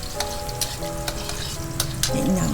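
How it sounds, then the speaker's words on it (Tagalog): Onion and garlic sautéing in a hot pan give a steady, close sizzle, with light stirring scrapes and a louder burst of frying near the end. "Halo-halo lang ng sibuyas at bawang"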